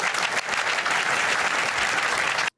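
A large audience at the Davos World Economic Forum claps in a continuous, full wash of applause that cuts off abruptly at the end.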